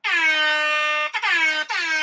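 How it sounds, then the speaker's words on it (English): An air horn gives three loud, steady blasts, the first long and the next two shorter, separated by brief gaps. "I'm trying to find my air horn."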